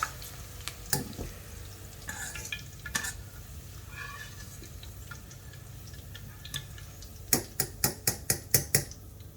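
Okra (bhindi) fries in a pan on a stove with a steady sizzle, broken by scattered clicks and a quick run of sharp taps near the end as the pan is stirred.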